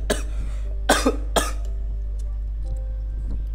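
Three harsh coughs in quick succession, the first faint and the last two loud and close, over a steady low hum with quiet background noise.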